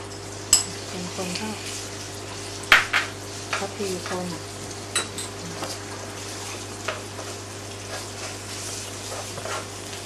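Pork frying in hot oil for crispy vegetable spring rolls, a soft steady sizzle with scattered clinks and stirring taps from a pan, fairly quiet, with a low hum underneath.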